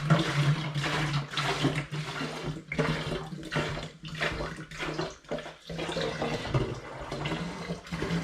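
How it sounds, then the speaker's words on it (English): Apple juice pours steadily into a Munton's wine fermenter, a continuous close splashing and gurgling of liquid filling a plastic vessel, with small breaks where the flow shifts. "I'm going to add apple juice into my fermenter"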